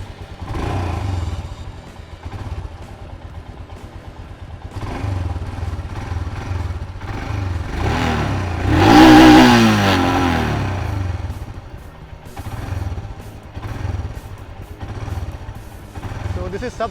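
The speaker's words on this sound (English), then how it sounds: "Let us just fire it up only for kicks and listen to that beautiful exhaust note." A 2018 Royal Enfield Himalayan BS4 fuel-injected motorcycle engine starts up and idles, then gives a rising and falling rev near the middle, close and fairly loud, with someone talking over parts of it.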